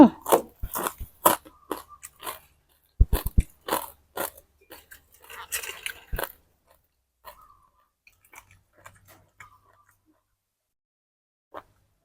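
Crispy fried pork rinds are bitten and chewed up close, giving loud, sharp crunches in quick bursts. These fade to a few faint chews and then near silence.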